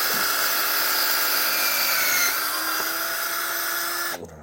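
A drill bores a new hole with a loud, steady high-pitched whine that wavers slightly under load, then cuts off abruptly near the end, with no talking.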